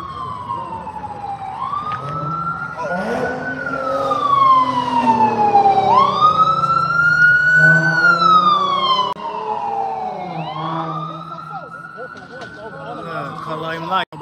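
An ambulance siren wails past loud and close, its tone sweeping up and down in long rising and falling cycles for the whole stretch, with faint voices underneath.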